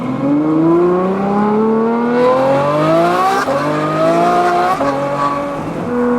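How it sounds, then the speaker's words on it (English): A tuned Ferrari 488 engine and exhaust rev loudly and close, the pitch climbing steadily in one long sweep before easing back and surging again, with no talking over it. "we're gonna show him what a Ferrari is supposed to sound like"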